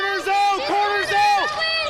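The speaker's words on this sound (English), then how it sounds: "It's the Lander bench you hear in our crowd microphone" Lander team bench players shout continuously at a Wyoming high school state championship basketball game against Torrington, picked up by a crowd microphone; loud, overlapping raised voices rise and fall throughout.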